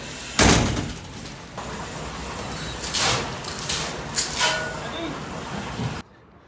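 A door handled by firefighters during a door entry procedure at a training centre in Zaandam, with several loud clunks and rattling impacts over steady background noise, followed by a sudden drop to quiet.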